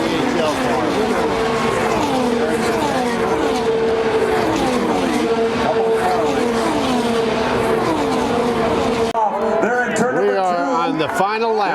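IndyCar race cars at the Indy 500 roar past in a loud, continuous engine howl with rising and falling pitch sweeps as cars pass, the field tightly bunched, and a commentator's voice running over the top throughout.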